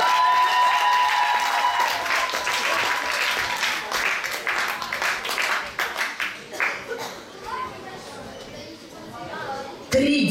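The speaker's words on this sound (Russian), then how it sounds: "аплодисментами" An audience applauds at a children's creative contest, a loud burst of dense clapping that slowly thins and fades into scattered claps, with a brief voice near the end.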